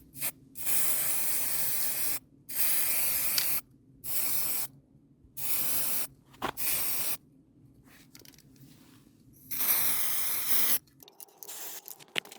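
Paint sprayed from a can onto a 50cc scooter part in a hot setting, heard as a series of steady close hissing bursts of one to two seconds each, separated by short pauses.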